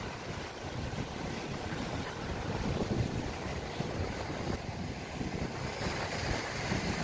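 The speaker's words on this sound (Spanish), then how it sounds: "Hay un poco de viento." Steady wind gusts buffet the microphone on an open beach during shore fishing at Punta Médanos, a constant rushing roar with a faint surf wash behind it and no voices.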